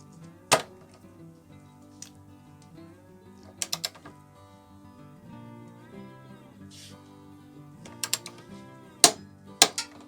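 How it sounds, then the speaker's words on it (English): Torque wrench tightening a brake caliper bolt on a Kawasaki Ninja/Versys ER-6 motorcycle: a few sharp metallic clicks and ratchet snaps stand out over a low steady hum, grouped in short bursts across the stretch. "so we've torqued that back up"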